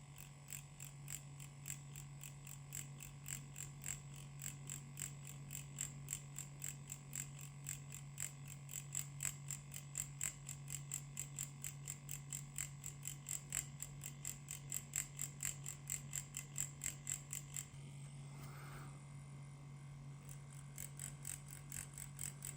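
A budget wireless Inkin Inferno tattoo machine with a 3-round liner, turned down to low voltage, pepper-shading on practice skin: a steady low motor hum with a fast buzzing tick, close and quiet, pausing briefly near the end.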